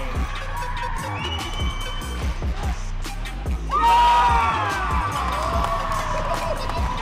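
A youth hockey crowd at a U15 championship rink roars and cheers loudly and continuously, with screams and whoops rising sharply midway, over hard rhythmic thumping from the stands.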